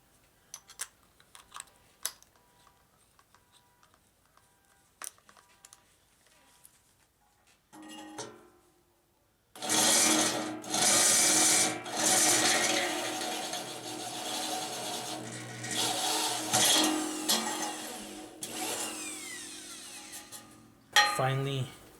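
A Harbor Freight step drill bit with small, closely spaced steps bores through material. A few faint clicks come first, then from about ten seconds a loud, sustained grinding whine runs in bursts until the end.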